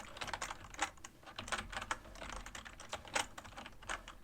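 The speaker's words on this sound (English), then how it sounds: "I'll go ahead and type one out." A school note is typed on a computer keyboard in a quiet doctor's-office roleplay setting, with soft, close, irregular key clicks in quick bursts and no voices.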